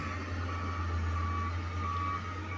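Reversing beeps from a large dump truck sound steadily over a deep, continuous engine drone, the tone repeating faintly at a close distance with no voices.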